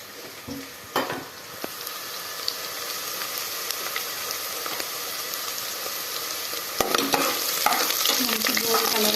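Ingredients for home-made chicken biryani frying and being stirred in a pan until golden, a soft sizzle under repeated scraping and clattering of a spoon, quieter at first and busier toward the end, with no voices.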